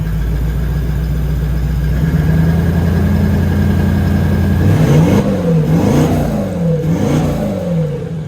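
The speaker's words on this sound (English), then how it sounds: "Give it a rev." Toyota 200 Series diesel with a DPF-back exhaust: a loud, close low idle that steps up around two seconds, then several rising and falling revs with a faint turbo whistle, no speech over it.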